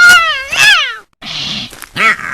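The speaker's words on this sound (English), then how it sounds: "They put cat screeching sound effects for him chasing a mouse." Cartoon cat screeching sound effects for a cat chasing a mouse in an animated episode: two loud, drawn-out wavering yowls, a short pause, then a harsh hissing screech and a final rising-and-falling meow, close and alone.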